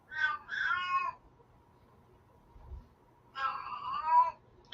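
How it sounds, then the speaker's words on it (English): Indoor house cat throwing a fit, letting out loud drawn-out complaining meows in two bursts separated by a quiet pause, close to the listener. "Oh, the mouthiest kitty."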